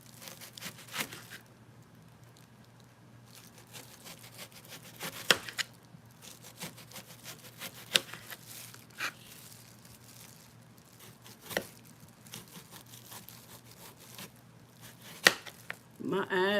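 A knife chops through a hard onion on a cutting board, giving scattered sharp knocks at irregular intervals with quiet stretches between them, close and fairly soft.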